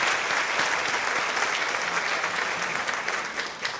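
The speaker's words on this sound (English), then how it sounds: "would you please give them a round of applause as well?" Applause fills an auditorium at a Teacher of the Year ceremony as the audience recognises the Office of Communications, a sustained even roar of many hands clapping that fades slightly toward the end.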